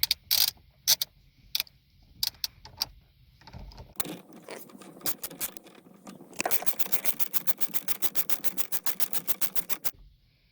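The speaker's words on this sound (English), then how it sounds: "Now you want to tighten it up a bit with your regular wrench." A ratcheting wrench tightens a bolt on a Mk7 Golf steering wheel fitted to a Mk5 Polo: a few sharp clicks and scrapes first, then a long, rapid series of close, even ratchet clicks.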